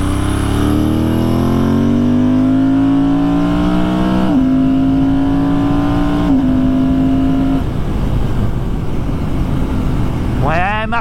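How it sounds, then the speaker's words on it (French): A Ducati motorcycle engine with a fault revs hard and loud, rising in pitch through several gear-like steps before dropping off, then a quick rev at the end. "Ouais, elle marche un petit peu cette moto quand même"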